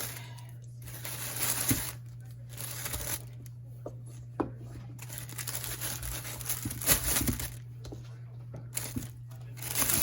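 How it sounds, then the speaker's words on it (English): A bag crinkles and rustles close by as pot roast vegetables such as mushrooms and Brussels sprouts are dropped in, with sharp clinks and crumpling in irregular bursts over a low steady hum. "I'm just going to go ahead and put everything in the bag"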